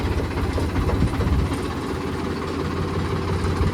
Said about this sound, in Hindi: बंद कर दे ट्रैक्टर लो